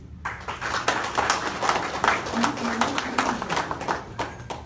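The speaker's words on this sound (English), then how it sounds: "So once again, clapping for all of you." Audience at a training event claps throughout, a dense rattle of many hands at steady loudness, with a voice talking over the crowd partway through.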